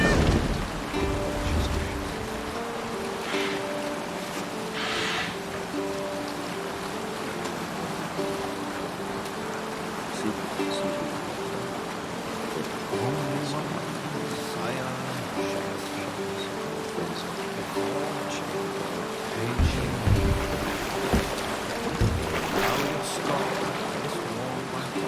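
Sailing ship at sea in Assassin's Creed Valhalla with its sail raised, a steady wash of waves and creaking sea ambience under sustained tonal music, with a few louder splashes and bumps.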